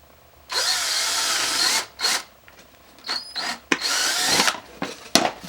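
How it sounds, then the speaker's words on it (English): A power drill whines loudly in several bursts while drilling holes during single post kit assembly, a long run followed by shorter ones, with pauses between. "you'll have to drill 2 holes here"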